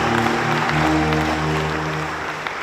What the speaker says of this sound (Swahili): naomba tumpigie Mungu makofi mengi katika hili